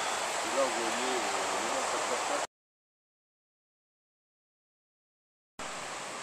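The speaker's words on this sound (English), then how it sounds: "this is one of the waterfalls." Waterfall in a rocky valley in Tahiti, a steady broadband rush of falling water that cuts out in the middle of the clip before returning, close and continuous.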